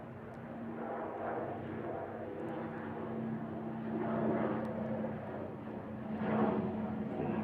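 A Pilatus PC-12 turboprop departing Manchester Airport makes a moderately distant drone with a steady low hum, swelling and easing in waves.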